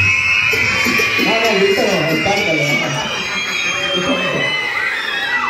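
First-grade children at a school Christmas posada shout together in a loud, sustained crowd roar with high whoops and cheering voices, close and dense, lasting the full stretch.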